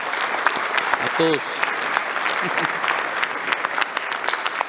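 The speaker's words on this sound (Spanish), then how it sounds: "primero les quiero pedir un aplauso" An audience claps at the close of an IPv6 tutorial session, a dense, sustained round of applause with scattered cheers and brief voices mixed in.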